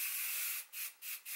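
Hairspray from an aerosol can hisses onto hair in one long spray followed by three quick short bursts, close and soft.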